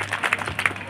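A crowd at a village memorial and tribute gathering claps briefly, a close burst of uneven hand claps lasting about a second.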